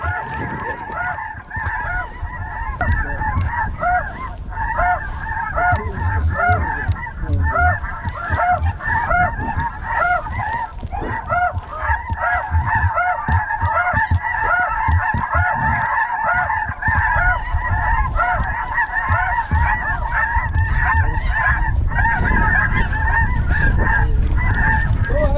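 A large flock of snow geese on an Arkansas hunt keeps up dense, overlapping honking and yelping for the whole stretch, loud and continuous, with occasional low rumbles beneath and no talk.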